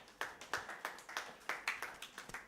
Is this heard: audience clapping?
yes